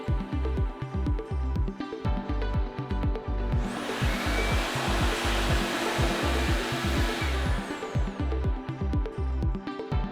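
A ThinAir hand dryer runs loud and close with a rapid throbbing motor pulse, and a broad rush of blowing air rises midway through and then fades as the motor and heat settings are adjusted.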